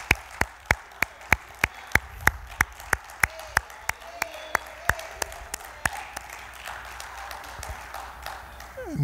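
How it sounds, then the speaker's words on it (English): Worshippers at a Sunday morning church service give God a hand clap of praise, a few sharp, evenly spaced claps ringing out at a steady rhythm over a quiet room, loud and close, with faint background murmur. "So why don't we give God a hand clap of praise this morning?"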